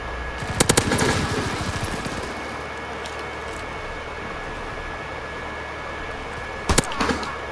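Gunfire in a video game, with a rapid burst of shots near the start, a quieter stretch of game ambience, and another short sharp burst near the end.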